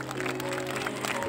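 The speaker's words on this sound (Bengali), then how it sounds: "জোরদার একটা করতালি।" A crowd applauds at a book fair with dense, steady clapping that fills the short stretch. A faint background hum runs underneath.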